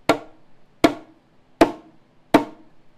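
Four sharp conga slap tones struck with the hand, evenly spaced about 0.75 seconds apart, each a crisp, bright crack with a quick decay, played alone and close.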